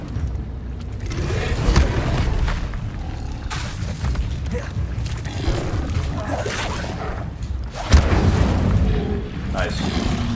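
Incendio fire spell cast in the Hogwarts Legacy game: loud, rumbling booms and whooshing bursts repeating over about ten seconds, with a sharp blast near the end, amid dense game noise.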